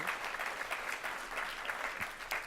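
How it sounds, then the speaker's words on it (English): Crowd applause at the 2019 MLK Awards Dinner: a dense, even spatter of clapping from a room full of diners, moderately distant and continuous, with no voices over it. "So please give yourselves a real round of applause for your support for this incredible organization."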